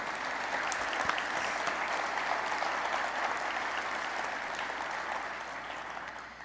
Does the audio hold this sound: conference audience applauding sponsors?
yes